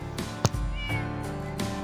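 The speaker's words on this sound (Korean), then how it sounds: "고양이 한 마리가 있네요." A cat meows a few times, drawn-out and fairly near, against a constant background hum on a snowy day at a mountain forest recreation area.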